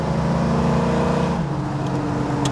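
A 1973 Plymouth 'Cuda V8 pulls hard under acceleration, its deep engine note climbing steadily before a brief dip as it shifts into third gear and resumes a lower, rising drone, loud and close.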